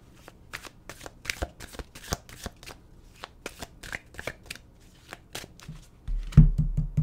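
Tarot cards are shuffled by hand, with a steady run of quick riffling slaps close to the listener and a heavier thump or handling noise near the end.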